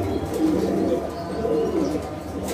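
A Dragon Homer pigeon coos softly and close by, low repeated throaty murmurs over a steady background hum, with no talking.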